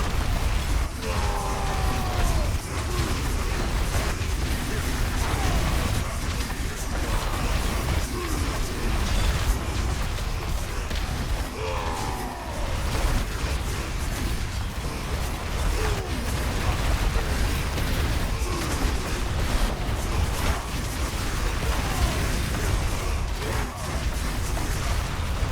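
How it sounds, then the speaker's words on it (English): Ground smashes and explosions from the Diablo 4 video game keep booming and bursting in a dense, nonstop stream of combat noise, with pitch-sliding effects scattered through it and no clear pause. "smash in the ground, smash again. Smash everything, smash, smash, blow up"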